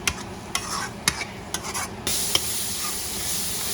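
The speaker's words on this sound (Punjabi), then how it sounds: "ਆਪਾਂ ਪਿਆਜ਼ਾਂ ਨੂੰ ਭੁੰਨ ਲਾਂਗੇ ਜਿਵੇਂ ਆਪਾਂ ਮਸਾਲਾ ਭੁੰਨਦੇ ਹਾਂ" Onions sautéing in a pan for stuffed green chillies, with a steady close sizzle and repeated scraping stirs at regular intervals; no voices.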